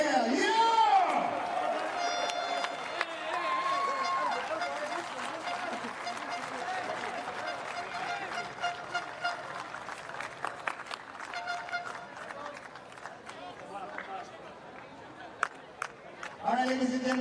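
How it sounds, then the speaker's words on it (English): A crowd at a FIBA 3x3 basketball tournament in Doha, Qatar, cheers and applauds, with scattered claps, chatter and babble. An announcer's voice and arena noise run over much of it, and the cheering grows louder at the end. "thank you very much, ladies and gentlemen, for the loud cheer that you can give them one more final cheer"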